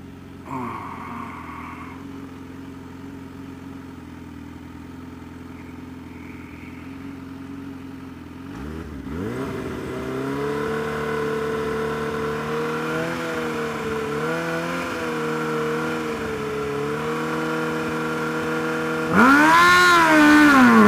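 An extended Kawasaki Ninja H2 motorcycle idles at a dragstrip, then its engine revs and climbs as the throttle and clutch are fed in. A loud, harsh surge comes near the end, close and with no talking.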